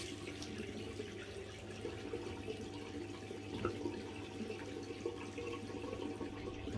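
A razor is rinsed under running tap water after shaving, a steady, fairly faint stream of water splashing in a sink without a break.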